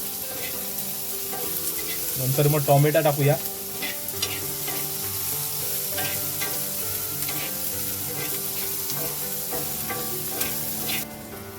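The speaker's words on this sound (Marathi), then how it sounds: "तव्यावरती टाकून कांदो कांदा मस्तपैकी आता लालसर होईपर्यंत भाजव दे" Onion frying on a flat griddle pan, giving a steady close sizzle with a brief burst of stirring early on, while someone talks over it.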